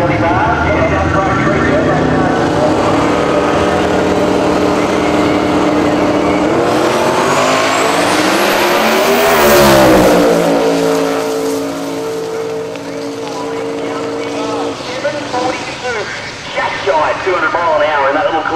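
A twin-turbo V8 Ford Cortina drag car with wheelie bars blasts down the strip at Willowbank Raceway, a loud sustained engine roar rising in pitch and sweeping past, then fading, with an announcer talking over it.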